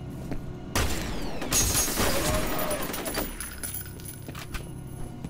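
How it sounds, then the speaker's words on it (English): Submachine gun and shotgun fire in the shooter game F.E.A.R., a dense burst of rapid gunfire with booms and shattering debris, loud and close, fading into scattered clatter. "Oh yeah, they're using the submachine guns. Good. And the shotties."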